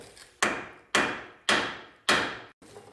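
Four heavy blows from a 3-pound guinea hammer land at a steady pace, each a sharp crack that rings and decays, with a quieter knock at the end.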